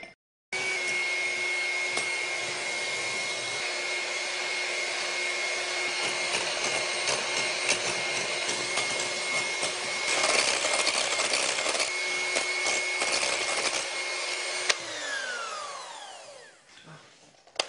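Cream being whipped with wasabi into chantilly, a steady loud whirring of an electric mixer running continuously for about fourteen seconds, then winding down and stopping.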